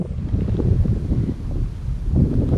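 Steady wind buffets the microphone with a low, rumbling roar, continuous and close, with no other sounds standing out.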